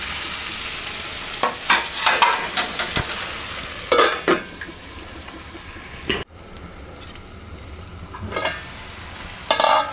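Okra masala cooking in a pan: a steady soft sizzle of frying with several sharp clinks and scrapes of a spoon stirring against the pan, and one lid-like clatter midway, with no talking.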